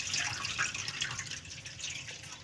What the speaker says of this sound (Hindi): चावलों को हम अच्छी तरह से साफ कर लेंगे पानी की मदद से